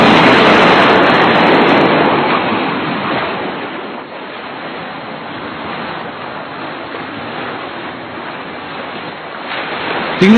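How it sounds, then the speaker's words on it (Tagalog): Loud, rushing ocean surf roars steadily, swelling and easing slightly as waves break, with a windy hiss throughout. "Tingnan nyo, mahina ng alon."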